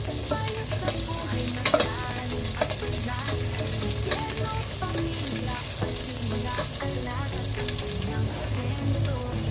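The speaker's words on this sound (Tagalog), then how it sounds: "ihalo na natin yung manok. Uh, siguro, igigisa natin siya para mawala lalo yung lagsa." Chicken pieces sauté noisily in oil for tinola, a continuous loud sizzle and crackle with stirring throughout, steady and close, no talking.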